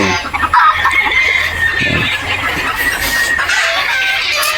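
Native-born pullet chickens cluck steadily in a farm setting while a rooster crows, loud and near, with no talking.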